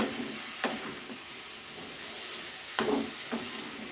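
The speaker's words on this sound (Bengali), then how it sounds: "আমি আলুটা দিয়ে দিচ্ছি, আর দিয়ে দিচ্ছি মাশরুমটা। এটাকে ভালো করে মিক্স করে নিচ্ছি।" Potatoes and mushrooms are stirred into a fried spice paste in a pan, a soft steady sizzle with a few spatula scrapes on the pan, no voices.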